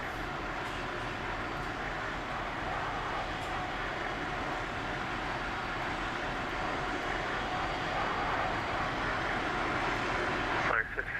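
An airliner on an Alaska flight out of Orlando in the X-Plane 11 flight simulator holds a steady, loud engine roar through takeoff, a broad continuous rumble with faint radio-style chatter underneath.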